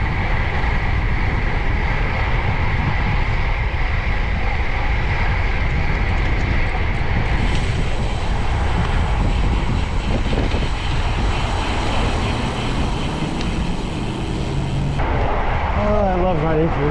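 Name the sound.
heavy crosswind blowing while cycling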